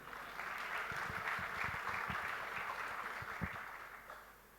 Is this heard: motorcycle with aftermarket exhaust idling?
no